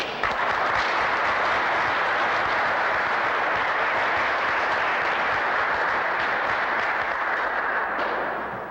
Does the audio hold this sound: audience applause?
yes